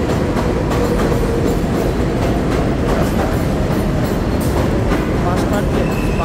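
A New York subway 7 train passing on an elevated bridge at Jackson Heights, a loud continuous rumble with rhythmic clatter of wheels over rail joints, close and steady throughout.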